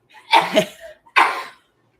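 A sharp sneeze burst, followed a moment later by a second shorter one, close and fairly loud with silence around them.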